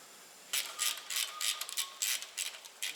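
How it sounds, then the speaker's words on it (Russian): A ratchet torque wrench tightening the cylinder head bolts on a MAN TGX D2676 Euro 6 truck engine: bursts of rapid ratcheting clicks in short strokes, fairly close, over quiet workshop background. "Динаметрически затянул, поставил метки."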